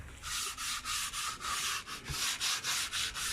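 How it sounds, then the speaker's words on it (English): Rusty metal patio furniture is sanded by hand in quick, regular back-and-forth strokes, about a dozen even rasping passes close up with no talking. "So we're gonna go ahead and sand this up real quick"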